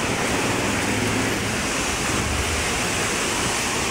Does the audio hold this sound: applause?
no